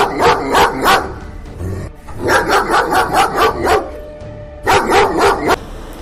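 Village dogs bark in three loud, close bursts of rapid yaps, each a quick run of four to six barks with short pauses between them.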